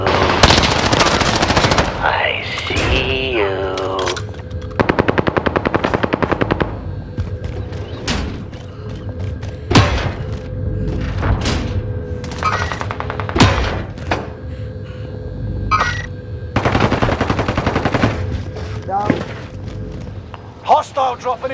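Bursts of automatic and single-shot gunfire from a Warzone battle royale match on Rebirth Island, loud and close, firing in repeated volleys with pauses between, mixed with game voice callouts.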